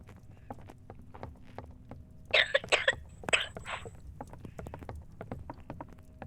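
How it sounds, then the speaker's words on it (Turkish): A short burst of several coughs close by, clustered over about a second and a half amid quiet background noise. "Arkadaşlar ben çok hastayım. Çok öksürüyorum."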